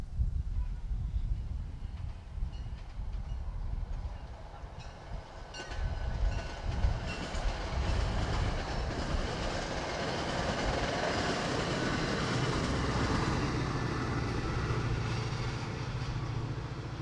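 A train rumbles past on tracks beside a softball field, a loud, steady roar with rattling wagons that builds and holds throughout, with no voices.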